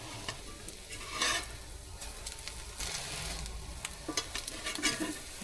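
French toast made with homemade bread sizzles and fries steadily in a pan, with scraping and stirring clatter from a utensil breaking through the frying hiss at intervals.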